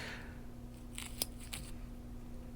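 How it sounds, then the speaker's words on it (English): A single crisp snip from bonsai snippers trimming a mame cork bark dwarf jade during repotting, quiet and close, followed by a couple of faint clicks against a low background hum. "I just snip it off to neaten it up"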